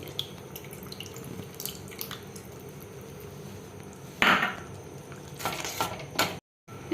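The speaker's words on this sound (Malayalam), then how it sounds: "കുറച്ച് ഒരു ഗ്ലാസ് വെള്ളവും കൂടെ അങ്ങ് ഒഴിക്കാം" Water poured into a cooking pot while making a Kerala cheera thandu pulungari (spinach stem tamarind curry), a steady close running-water sound with light clinks of cookware, briefly louder near the end.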